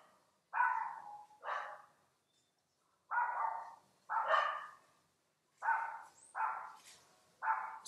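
Dogs bark in loud, close bursts of one or two barks each, with short silent gaps between them, repeating about eight times.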